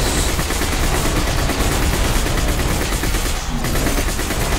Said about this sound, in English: Can't get rid of these AA guns.